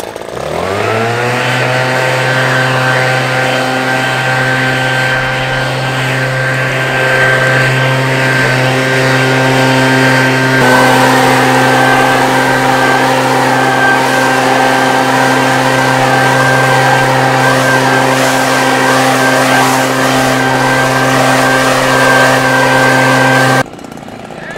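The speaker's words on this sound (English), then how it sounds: "I am wearing right now the Echo PB8010, the monster blower. Biggest on the market, most powerful on the market." An Echo PB8010 backpack leaf blower, a large high-powered model, roars steadily and loudly throughout with a strong sustained engine drone and rushing air, alone without talk.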